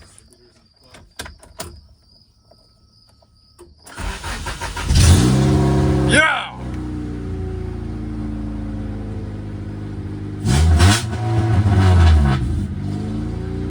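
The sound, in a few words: car engine starting and revving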